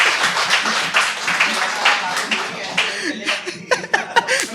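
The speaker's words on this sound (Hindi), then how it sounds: "ताली वाली मारो यार।" Audience at a Hindi poetry reading in Banaras claps in a dense, near burst of applause mixed with chuckles and laughter, thinning into scattered claps toward the end.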